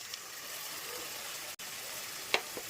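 Onion and spice masala for dhaba-style palak paneer fries in a pan with a faint, steady sizzle and a couple of brief clicks.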